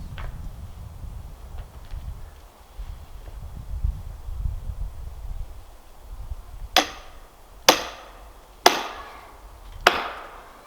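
Four sharp metallic strikes ring out at uneven intervals as a hammer drives an axe used as a wedge into a dead tree outdoors, following several seconds of low rumbling background.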